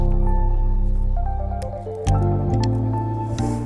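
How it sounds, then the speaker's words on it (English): Water pours slowly and steadily over ground coffee in a pour-over brewer for an iced recipe, a close, continuous trickle and drip at about seven grams per second, with no talk. "My rate of pouring is about 7 grams per second."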